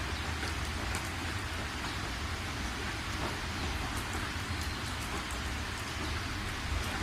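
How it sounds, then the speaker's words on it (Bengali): Rain falls in a cartoon scene as a steady, even hiss that runs unbroken for the whole stretch, with no voices over it. "ওদের জীবনে এটাই প্রথম বৃষ্টি।"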